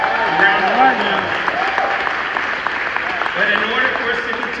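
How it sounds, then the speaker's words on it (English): Applause from an audience at a YMCA event, a steady wash of clapping lasting several seconds with a voice speaking over it. "Let's give Michael Bright and staff a round of applause."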